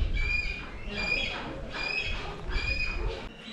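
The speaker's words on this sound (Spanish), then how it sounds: "Ese de ahí es el halcón peregrino." At a bird-of-prey centre, a peregrine falcon gives harsh, repeated calls in about four evenly spaced bursts. The calls are moderately loud over steady background noise, and people can be heard talking faintly.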